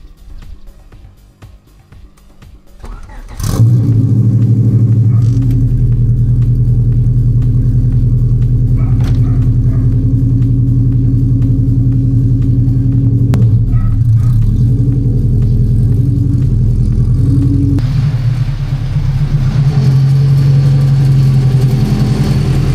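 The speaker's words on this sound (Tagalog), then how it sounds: "start ko muna. Cold start." A car engine cold-starts with a sharp crank and catch, then settles into a loud, steady rumbling idle, with a few small rises in revs and no talking.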